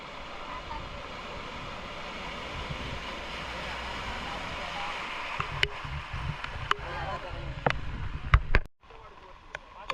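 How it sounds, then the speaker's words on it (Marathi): Fast-flowing floodwater rushes in a swollen river during heavy monsoon rain in Lanja taluka, a steady broadband roar with scattered sharp knocks and clatters near the end, then a brief drop before the flow resumes. "पाण्याचा वेग प्रचंड आहे"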